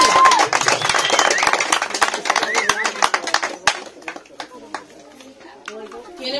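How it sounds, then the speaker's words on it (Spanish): Guests applaud at a golden wedding celebration: dense, loud clapping for about three seconds, then thinning into scattered claps among crowd murmur and voices. "un aplauso muchísimo más fuerte"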